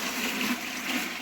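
Liquid is poured into a container while mixing homemade laundry detergent, a steady broad gushing wash of water that stays even and fairly loud throughout.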